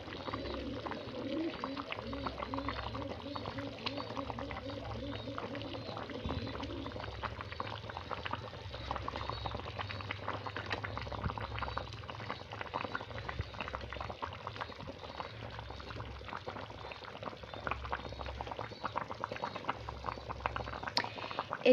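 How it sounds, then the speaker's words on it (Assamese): Liquid boils steadily in a cooking pot of fish, with a broad bubbling rumble and patter throughout, fairly close and continuous, while a voice speaks now and then over it. "এয়া চাওক, ধুনীয়াকৈ উতল আহি গৈছে।"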